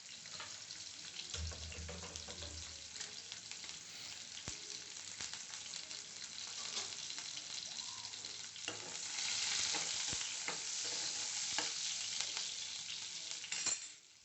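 Chopped onion and greens tempering in hot oil in a pan for radish sambar, a steady loud sizzle with stirring scrapes and occasional clinks, rising in intensity partway through, with no talking.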